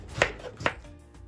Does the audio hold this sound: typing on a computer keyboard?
no